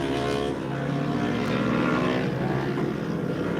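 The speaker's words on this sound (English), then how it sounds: "It was just a Superbike going out to try and get a couple of laps in." A superbike on a track at a Superbike Championship round at Kirkistown drones steadily from a distance, a continuous engine hum with no speech.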